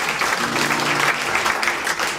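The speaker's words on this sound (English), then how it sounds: "give April a big round of applause." Audience at a live music show applauds steadily, a dense wash of clapping at a constant level from start to finish with no talk over it.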